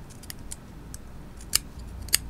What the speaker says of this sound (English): I put my scissors right against the edge of the base here and just cut.